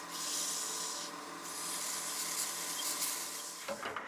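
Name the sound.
sanding a Blackwood bat house ornament with 400 grit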